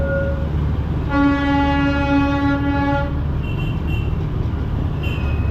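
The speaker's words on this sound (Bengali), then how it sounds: "ফেরার পথেই পেয়ে গেলাম টয় ট্রেনের দেখা" Darjeeling toy train sounding a long, loud horn blast of about two seconds as it passes nearby in the hills, with rumbling running noise continuing after and a faint second toot.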